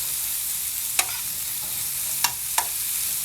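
A pan of garlic fries with a continuous soft sizzle, and three brief scraping stirs cut through it at uneven intervals, close by with no talking.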